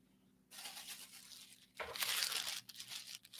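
Tape is handled during spring cleaning, heard as close bursts of tearing and crinkling that start after half a second of quiet and surge louder midway, with no talk.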